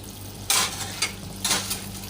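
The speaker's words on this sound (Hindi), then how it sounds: "इसकी अब हम भुनाई करेंगे" Mutton karahi masala is stirred in a hot pan, with two bursts of sizzling scrape as the spoon moves through the frying mixture, plus a softer stir between them, close up and without speech.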